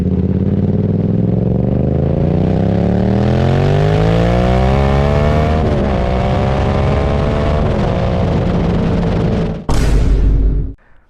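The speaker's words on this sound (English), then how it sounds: "I absolutely love the way this bike sounds, and that CP2 engine is scrum-diddly-umptious" A Yamaha YZF R7 motorcycle's CP2 engine revs loud and close, pitch climbing steadily through the gears to about 10,000 RPM, then cuts off abruptly near the end with a brief burst.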